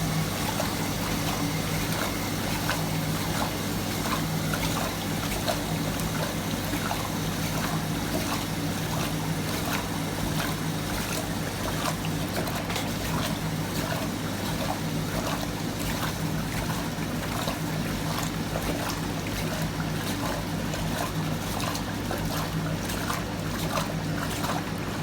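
A Hotpoint Supermatic Deluxe S9414 washing machine on its final rinse: a steady, continuous wash of sloshing, rushing water with a constant low motor hum, loud and close, without pause.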